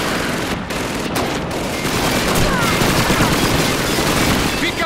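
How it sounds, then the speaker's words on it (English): Machine gun fire in the World War II shooter Call of Duty 2, a dense, continuous fusillade of rapid shots and battle noise that stays loud and steady throughout, with distant booms mixed in. "Machine gun, and make sure you reload it first."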